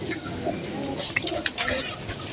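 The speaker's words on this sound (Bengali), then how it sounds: "আর গাছের উপরে দেখুন আরো অনেক কবুতর আছে" Pigeons perched in and around a tree coo faintly under a steady outdoor hiss, with a few brief brighter chirps and flutters.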